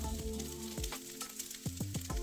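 Rice and green beans frying in oil in a nonstick skillet, with a steady close sizzle and crackle and a few sharper bursts where the food is stirred and tossed in the pan.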